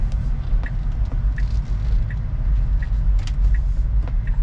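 A 2018 Tesla Model 3 Long Range on a test drive, with a steady loud low road rumble and tire noise from inside the cabin and faint occasional clicks, no talk.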